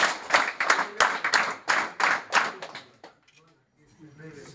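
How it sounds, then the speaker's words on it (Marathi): An audience at a school felicitation for meritorious students claps in unison, a rhythmic run of sharp, evenly spaced group claps that stops abruptly before a voice starts speaking. "सर्वांनी यांचं पण 3 टाळ्या स्वागत करा."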